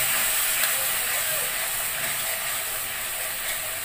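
Fried spice paste sizzles and hisses loudly in a pan after a little water is poured in. The sound is a dense, steady crackling steam hiss that stays constant throughout and is heard up close, with no talk over it.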